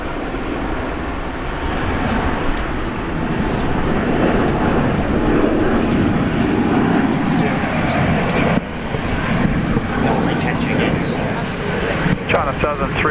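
A jet airliner takes off from runway 19 right at Brisbane International Airport. A loud, sustained engine roar fills the whole stretch, heard alongside radio chatter from air traffic control and an overlaid talking voice.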